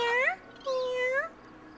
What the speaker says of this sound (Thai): เฮ้ยลูกแมวตัวเล็กมากเลย